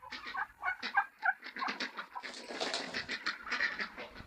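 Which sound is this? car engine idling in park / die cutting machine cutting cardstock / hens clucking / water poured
hens clucking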